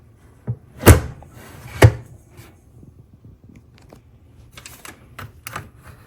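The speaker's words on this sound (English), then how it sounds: "we're gonna go ahead and get the lid on, and I'm simply gonna hit the start button" A Presto digital pressure canner lid closes with two loud plastic clunks, followed by softer clicks and taps as the start button is pressed, in a quiet kitchen.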